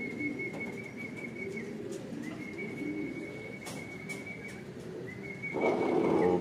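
Racing pigeons arriving back at a loft, soft cooing and bird calls over steady outdoor background noise with a faint high tone running through, the commotion swelling louder near the end.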